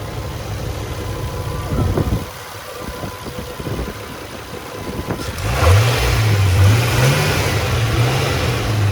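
Turbocharged 1999 Nissan Skyline R34 coupe with an offset muffler, idling loud and close before the engine revs up and holds a rising, wavering drone in the last few seconds.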